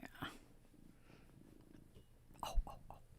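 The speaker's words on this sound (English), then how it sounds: "He purr. It's a big purr." A cat purrs softly and continuously at close range, a faint low rumble that carries a couple of brief louder rustles and a short quiet vocal sound partway through.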